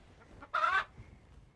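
A hen in a chicken coop gives one short, close cluck, with only faint background around it.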